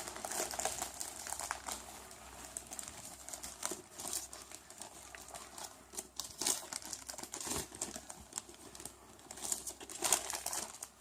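Cardboard from a boxed plant's shipping box is torn open down the side, a close crackling, crinkling rip with uneven bursts over about eleven seconds and no talking.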